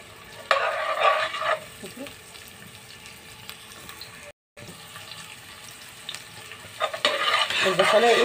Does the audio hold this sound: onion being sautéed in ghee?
yes